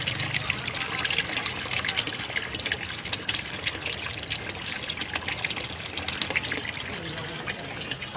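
Water runs steadily from a tap into a container, a constant splashing gush that carries on unbroken throughout.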